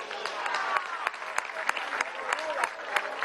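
An outdoor political rally crowd in Venezuela applauds in scattered, sharp claps with some cheering voices mixed in, a loose rather than dense round of clapping.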